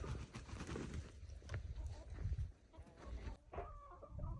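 Chickens cluck softly nearby amid rustling and shuffling noises in a ruined, deserted village, the calls brief and scattered over a quiet, faint background.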